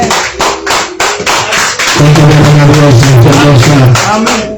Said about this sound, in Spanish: Un aplauso recibiendo al siervo de Dios.